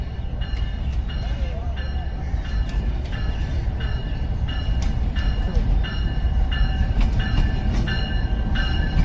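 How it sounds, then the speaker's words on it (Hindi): The Awam Express train approaches Golra railway station in Pakistan, a steady loud rumble of wheels with regular rhythmic clacking and squealing over rail joints, continuous and close throughout. "14 डाउन अवाम एक्सप्रेस पेशावर से निकल कर कराची जाने के लिए गोडरा रेलवे स्टेशन पर अप्रोच बना रही है।"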